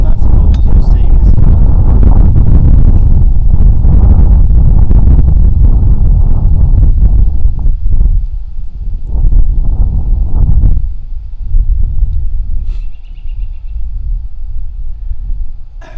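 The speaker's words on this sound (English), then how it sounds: "that gust of wind brought to you by the Northeast" Strong gusting wind buffets an outdoor microphone with a loud, broadband roar for about ten seconds, then eases to a steadier, lower rush with faint outdoor background while cooking rice outdoors.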